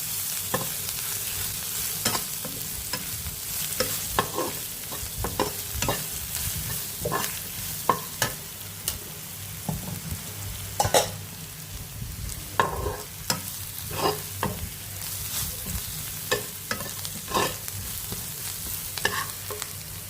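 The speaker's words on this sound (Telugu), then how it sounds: "కొంచెం పసుపు, కారం వేసుకొని అలా ఫ్రై చేసుకోవాలి." Turmeric, chili powder and a few peppercorns fry and stir in a pan, a steady close sizzle broken by repeated scraping and clinking strokes of a spoon over about twenty seconds, with no talking.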